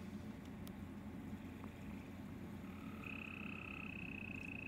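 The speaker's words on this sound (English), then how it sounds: "you can hear the frogs" Frogs at a koi pond croak faintly in the distance over a steady outdoor wash of running water and ambient hiss, with a thin sustained tone partway through and no voices.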